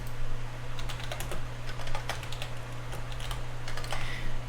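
Rapid keystrokes on a computer keyboard, clacking in quick uneven bursts close by over a steady low electrical hum, with no one speaking.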